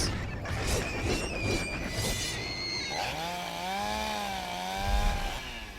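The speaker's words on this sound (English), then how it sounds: "Waste of a perfectly good chainsaw move." A chainsaw attack in The Secret World game roars close and loud for several seconds, its buzzing whine rising and falling in pitch as it revs, with harsh crunching impacts layered in.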